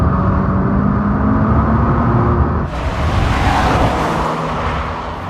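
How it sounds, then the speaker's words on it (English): A 2015 Subaru BRZ's boxer flat-four engine revs hard and continuously on a race track, with a loud, steady drone that brightens as the engine pulls higher about halfway through. "The engine loves to rev. It's a high RPM power band. Smooth. It's that Boxer flat 4, inherently very smooth."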